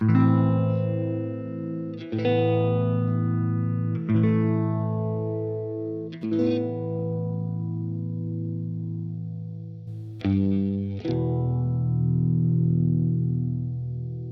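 Sustained electric guitar chords with light distortion through an MXR Phase 90 phaser pedal at a slow rate, each ringing out and slowly swirling with a gentle phase sweep; a new strum every couple of seconds.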